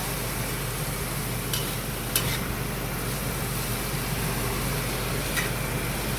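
Onion being stirred and sautéed in a pan for arroz valenciana: a steady, close, even sizzle of frying with a few faint scrapes of stirring, and no talking.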